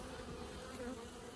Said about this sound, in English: The bees are doing their own preparations. They're coming up to the feeder.